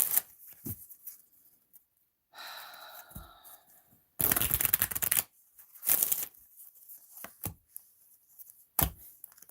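A tarot card deck being shuffled by hand, a few separate bursts of riffling and shuffling close up, with soft handling noises and quiet gaps between.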